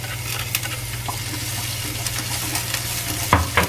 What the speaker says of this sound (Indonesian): Jahe sama bawang putihnya dioseng dulu ya,